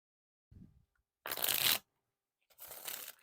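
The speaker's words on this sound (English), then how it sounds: "These are actually really smooth for riffle shuffles." Two quick riffle shuffles of plastic-coated DC Comic Pop playing cards, each a dense fluttering burst of about half a second, close and clear, with a soft tap of the deck just before.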